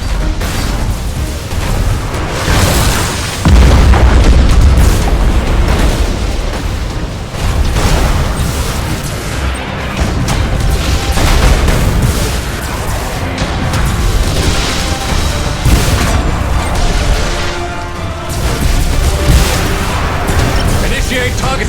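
Warship main batteries in Battlefleet Gothic Armada 2 fire repeated heavy booming blasts, loud and rumbling, in waves every few seconds under continuous battle noise.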